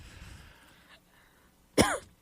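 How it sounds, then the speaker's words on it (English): A single sharp cough bursts out close to the microphone after a stretch of quiet and faint background sound. "Sorry, I have to cough."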